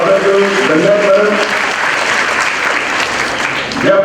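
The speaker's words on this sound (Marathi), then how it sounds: "आपण मॅडमचं पुन्हा एकदा टाळ्या वाजवून हार्दिक स्वागत करू." A room of students and guests claps warmly for a woman guest after her talk at a Rotary Club session on good touch and bad touch, with steady, dense applause throughout and a few voices mixed in.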